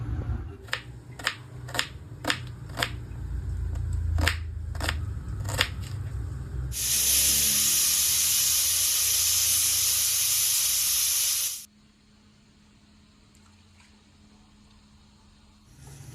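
Pressure cooker cooking mutton pulao, a series of sharp clicks followed by a loud sustained burst of venting steam lasting several seconds, then abruptly cut off to near quiet.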